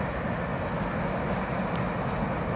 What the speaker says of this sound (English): Wow, that's a sizable train.